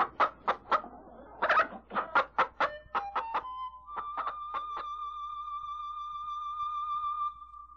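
A hen clucks in a radio drama, a quick run of sharp, close clucks followed by a drawn-out, wavering cackle that holds steady to the end, with no one speaking over it.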